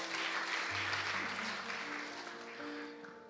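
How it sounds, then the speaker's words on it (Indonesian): A church congregation at a Sunday worship service applauds steadily, a soft even patter of many hands under a faint hum. "tepuk tangan untuk Bu Teresia Mamahit"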